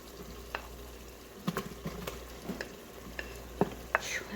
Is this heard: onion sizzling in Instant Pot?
yes